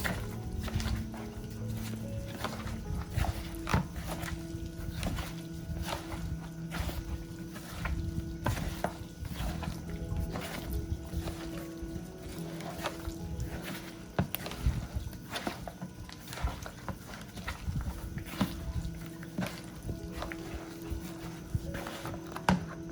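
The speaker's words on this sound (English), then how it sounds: "Go ahead and mix it up with your hands, guys, to distribute it all throughout." Seafood salad being tossed by hand in a bowl, a steady soft wet squishing and rustling that runs on throughout, fairly quiet and close.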